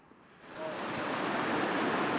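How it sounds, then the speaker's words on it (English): A rushing mountain stream near the top of a waterfall swells from quiet into a loud, steady broadband roar of flowing water that continues unbroken to the end. "talk about a flowing mountain stream"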